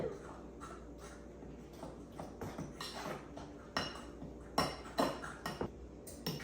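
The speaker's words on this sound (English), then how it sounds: "Now we'll get this all stirred in." A spoon stirring milk into pumpkin coffee cake batter in a bowl gives soft scraping and a run of light clinks against the bowl. The taps grow sharper toward the end and sound close and quiet.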